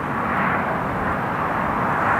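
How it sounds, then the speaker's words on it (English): A KLM airliner on a shortened takeoff from an intersection at Newcastle International Airport, a steady loud broadband engine roar heard from a distance, with no talk. "So we're going to get a KLM doing a shortened takeoff from Charlie West"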